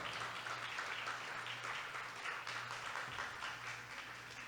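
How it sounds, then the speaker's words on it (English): An audience at a school building event applauds Vice President Professor Jane Bellarmino, a faint, continuous spread of clapping with a low steady hum beneath it. "make a loud applause to Vice President, Professor Jane Bellarmino"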